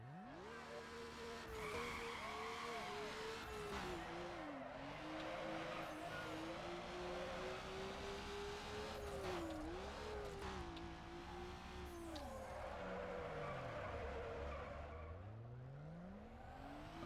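Mazda RX-7 in a video game, its engine revving steadily with pitch rising and falling through gear changes, tires squealing and skidding through corners, close and continuous with no talk.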